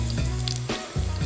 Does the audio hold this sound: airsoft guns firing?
no